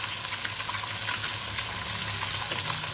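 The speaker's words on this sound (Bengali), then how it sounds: "শোল মাছটা একদম তাজা ছিল, সেই কারণে আমি একদম কম করে ভেজে নেব।" Fresh snakehead fish fries lightly in a pan, giving a steady, dense sizzle and crackle that stays level and close throughout with no talking.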